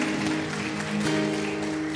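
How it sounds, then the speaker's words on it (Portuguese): Church congregation applauding during a Brazilian Portuguese worship service; sustained clapping mingled with music and voices, loud and continuous across the short stretch. "Aplauda esse Deus tão grande."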